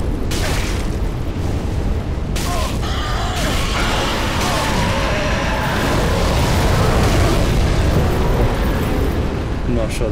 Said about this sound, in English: So I'll let the dragon do the fire.